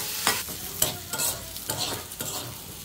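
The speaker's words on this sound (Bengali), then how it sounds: "এটা আমি ভালো করে একটু ভেজে নেব।" Onion and garlic fry in oil in a kadai, a close crackling sizzle punctuated by several sharp scraping stirs of a spatula against the pan.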